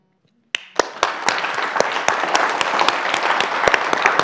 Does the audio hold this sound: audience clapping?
yes